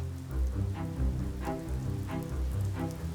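Rain falls steadily outdoors in a rural landscape with old buildings, a continuous soft patter with low rumbling undertones and no voices.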